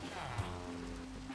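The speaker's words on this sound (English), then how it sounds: "Of course it's raining. I apologize for the noise." Steady rain hisses and patters through a Minecraft world in a brief, continuous wash of noise, moderately quiet, with a faint voice low in the background.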